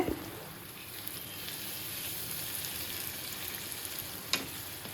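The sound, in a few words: spices and masala sautéing (kosha) in a pan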